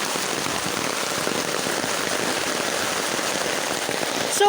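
Heavy rain pours steadily and loudly on a surface in a rural province setting, a dense unbroken hiss for the whole stretch, swelling slightly louder right at the end.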